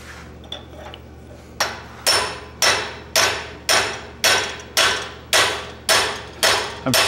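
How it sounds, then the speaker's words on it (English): A blacksmith strikes hot metal with a hand hammer while working a monkey tool, about ten sharp, evenly spaced ringing blows at roughly one per second, loud and close with no talk over them. "I'm not using my huge hammer."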